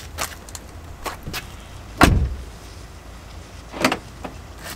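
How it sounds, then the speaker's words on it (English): A car door with a keyless locking system is shut with a solid thump, followed by a few lighter mechanical clunks and clicks of the lock, heard close with faint outdoor background between them. "Let's close the door and see if it locks."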